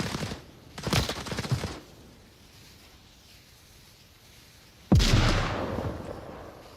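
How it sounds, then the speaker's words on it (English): Gunfire and a grenade blast in a competitive shooter match, with a dense burst of shots near the start and a sharp, heavy explosion later, loud and close over a low rumbling background. "And Dove with a nade onto Wicked."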